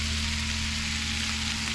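Cabbage and other vegetables sizzle steadily in a frying pan as they are stirred, a close, even hiss with no talking.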